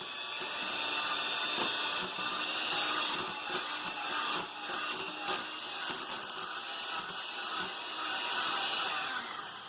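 Peanut butter cookie dough being beaten with sugar in an electric mixer, a loud, steady mechanical whir with rattling, clattering beaters running continuously for several seconds.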